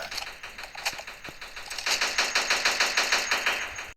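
Rapid bursts of machine gun fire, scattered shots at first, then a steady rattling stream of evenly spaced rounds that cuts off abruptly.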